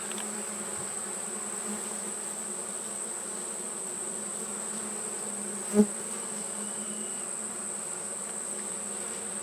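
Honey bees buzzing around hives in a bee yard, a steady, even drone of many insects throughout, with one brief knock partway through.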